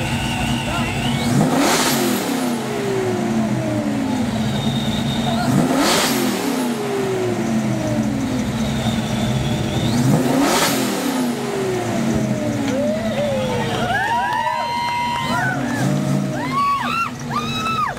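Ford Mustang engine revving hard at an outdoor rumble contest, three loud sweeping throttle blips spaced several seconds apart over a steady idle rumble, with higher whining revs near the end.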